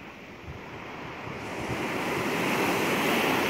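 Ocean waves wash onto the shore in a broad steady roar with some wind, swelling louder over a few seconds and heard alone without voices.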